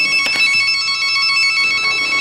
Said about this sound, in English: forgot to turn my phone off